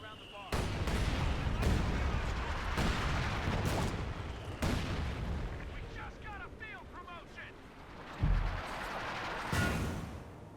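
Mortar fire in Company of Heroes 2: a string of loud, sharp blasts lands every second or so over a constant battlefield rumble, then one more heavy thud comes after a lull, with a voice heard at times.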